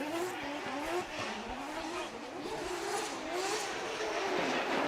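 Formula Drift Japan drift car, No. 21 driven near the outside wall, with tires squealing in long wavering tones over a loud, steady engine roar, continuous and close.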